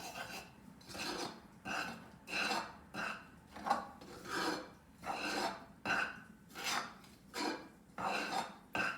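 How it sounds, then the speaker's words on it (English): A spoon scrapes and rubs inside a small cup as flour is stirred, in a steady rhythm of about a dozen rasping strokes, close and clear with no talking. "let's take this little cup right here, add just a smidgen of the flour, stir that around."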